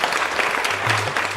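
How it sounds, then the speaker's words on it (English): Audience applause greeting farmers at the opening of an agricultural science programme, a steady dense wash of clapping filling the whole short stretch. "So let's begin the program with thunderous applause."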